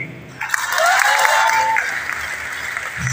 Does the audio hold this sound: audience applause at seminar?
yes